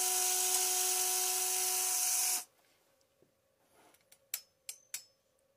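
A Huina 1550 RC excavator closes its timber grabber attachment with the arm motor: a loud, steady high electric whine for about two seconds stops abruptly, followed by a few small clicks and sharp plastic ticks.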